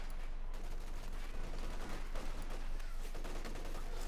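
Dense, continuous gunfire from Company of Heroes 2 combat, with Obersoldaten and a .50 caliber machine gun in a big assault; rapid overlapping bursts and shots form a steady, loud wall of fire with no pauses.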